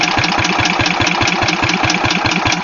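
A Wisconsin AENLD engine driving a Pacific pump on a Land Rover, cranking and struggling to start, with a loud, rapid, steady chugging pulse close up.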